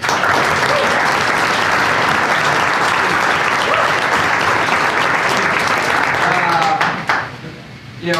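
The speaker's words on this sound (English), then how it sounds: "So I just wanted to give everyone recognition, a round of applause for Henry." A room full of people at a lunch gathering breaks into strong, dense applause that holds for several seconds, then drops off quickly into quieter murmurs.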